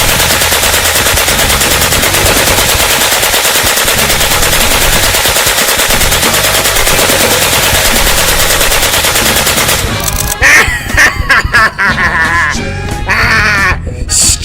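Sustained rapid machine gun fire roars loud and continuous for about ten seconds, then breaks into scattered shots and shouting voices.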